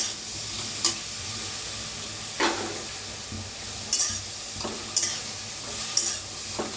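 Cluster beans dry-roast in a pan over a low sizzle, broken by sharp spatula scrapes and clinks against the metal about once a second, five or six strokes in all.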